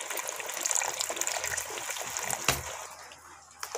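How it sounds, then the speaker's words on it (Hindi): Water poured into a pot of mutton kofta curry cooking in a home kitchen, a steady close gush and trickle running for a few seconds with a brief clink partway through. "अभी हमने इसमें पानी डाल लिया है"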